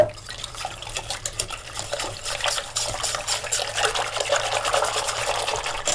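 Steady pouring water splashing into a pot of mushroom and potato soup, a continuous bright liquid rush that runs for several seconds with no voices.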